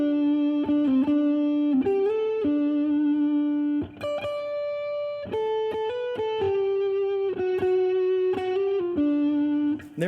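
Distorted electric guitar picks out a riff over chord tones, clear sustained single notes and short bends in a steady phrase, loud and close with effects coloring the tone, no voices.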